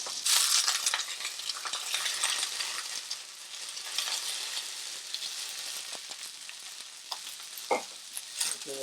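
Atlantic salmon pieces frying in a crowded hot pan, a steady close sizzle with crackling spits and a few sharp pops toward the end, no voices.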